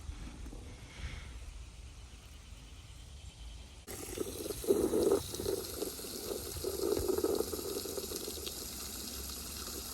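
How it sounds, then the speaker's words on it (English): After a quiet start, water begins pouring and splashing into a bee waterer, a steady gurgling fill that continues to the end. "Topping off the waterer for the bees and the birds"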